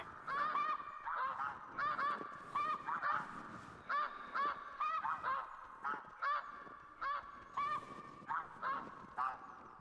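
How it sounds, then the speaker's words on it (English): A flock of geese flies overhead on a wilderness ridge, honking steadily in overlapping bursts that repeat throughout, moderately loud and close, with no talking. "I can actually see the shadows of the geese flying over"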